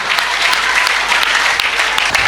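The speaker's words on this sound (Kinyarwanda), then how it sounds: "Kadukomere Imana amashyi mu izina rya Yesu." Steady, dense applause from a church congregation, loud and continuous throughout with no pauses and no talk over it.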